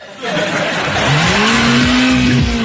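A car driving fast, engine roaring and rising in pitch as it accelerates, loud and close, with a voice shouting over it.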